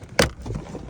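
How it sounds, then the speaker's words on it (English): A clipped-in centre console being pried loose in a Mini Cooper gives one sharp plastic snap near the start, followed by faint rustling handling noise. "the centre console is literally just clipped in"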